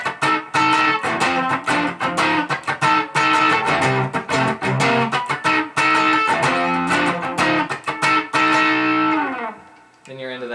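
Distorted electric guitar plays a chorus riff, loud and punchy with rhythmic chord stabs and bends over about ten seconds, ending in a brief fading note.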